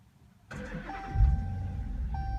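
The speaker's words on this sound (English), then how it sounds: "Press clutch pedal and push button to start." A 2015 Dodge Challenger R/T engine cranks and catches with a short burst, then settles into a steady, nearby idle.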